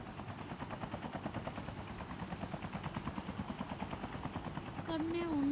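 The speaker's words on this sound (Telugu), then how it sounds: "ఇక్కడ హెలికాప్టర్ కనిపించింది" Helicopter in a video game, a steady rotor thump with fast rhythmic chopping pulses throughout, growing louder near the end as a higher tonal whine enters.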